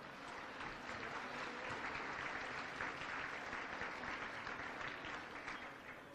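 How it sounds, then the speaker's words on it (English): A gala audience gives sustained applause, a full, steady roll of many hands clapping at moderate volume for the whole stretch. "Let's give them a round of applause."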